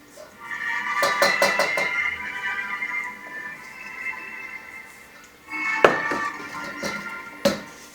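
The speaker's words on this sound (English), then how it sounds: "we stir in the flour and cornmeal mixture" A spoon works flour and cornmeal into a cheese and butter batter in a bowl, giving a cluster of quick scraping clacks early on, a lighter stir, then two sharper knocks against the bowl near the end.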